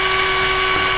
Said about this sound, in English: 9/64 bit, and we'll put it in, and we'll go ahead and drill it through